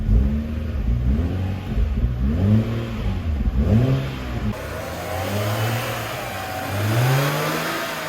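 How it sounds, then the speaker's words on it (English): A cold BMW 135i engine revs up and down repeatedly, rising and falling in pitch with a steady rumble, up close and with no voices. "And now we can just rev it up a little bit, just a little bit, because it's still cold."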